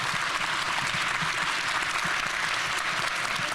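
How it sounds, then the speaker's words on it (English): Steady applause from a summit audience in Baltimore, dense and continuous clapping filling the whole stretch at even strength with no pauses. "let's keep another round of applause"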